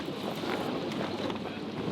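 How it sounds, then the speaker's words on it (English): Strong wind roars and buffets the microphone in a continuous rush aboard a sailboat, with faint water and boat noise beneath. "but there's big gusts, it's quite difficult"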